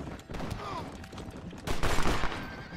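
Gunfire in Red Dead Redemption, a few scattered shots followed by a louder cluster of rapid bursts near the end, moderately quiet overall with faint talking.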